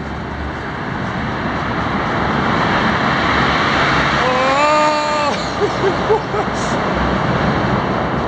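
Cars roaring through a 3 km road tunnel, a loud echoing wash of traffic noise that swells as vehicles pass close, with a rising whine and faint voices underneath.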